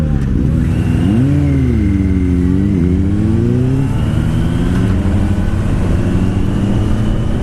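A 2016 Suzuki Bandit motorcycle rides off under a loud, close engine, revving and rising in pitch through gear changes before settling into a steady drone, with strong wind rumble throughout.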